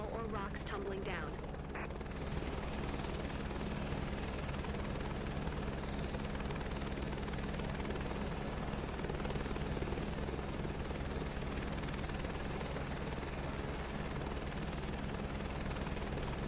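Helicopter in Microsoft Flight Simulator 2024, a constant rotor drone and engine hum that runs throughout, with a voice talking over it near the start.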